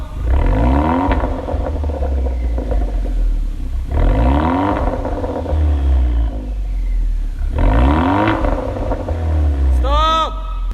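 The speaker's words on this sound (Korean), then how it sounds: "배기 소리에 팝콘 막 가래 끓는 소리가 지금 엄청납니다" A Kia K3 GT with a tuned exhaust revs hard three times in loud, rising bursts, with crackling exhaust pops between pulls and a brief squeal at the end.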